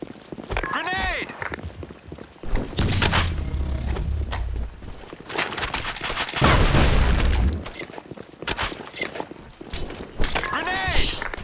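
Grenade blasts and gunfire in the online shooter BlackShot, with deep booming explosions and rapid clattering shots mixed with game sounds, while players talk over the action.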